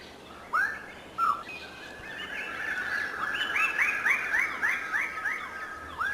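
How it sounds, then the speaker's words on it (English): Lesser birds of paradise displaying on a communal tree in New Guinea, giving loud, repeated rising whistled calls that build into a rapid series of overlapping notes against a steady background hiss of forest insects. "These lesser birds of paradise are displaying on a communal tree."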